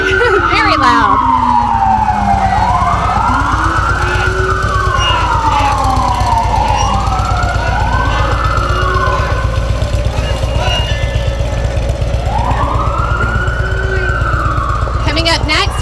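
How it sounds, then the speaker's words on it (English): Loud, wailing emergency sirens sweep up and down repeatedly, several overlapping, with a constant engine rumble beneath them. "what do you think about the sirens? They're very loud."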